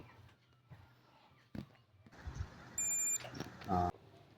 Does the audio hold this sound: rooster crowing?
no